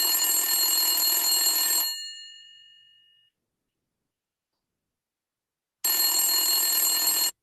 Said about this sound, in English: Imagine you receive a phone call